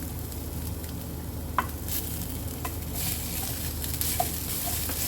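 Grated coconut and jaggery being stirred together in a pan for modak filling, a soft continuous scraping and faint sizzle with a few sharp spoon clicks against the pan.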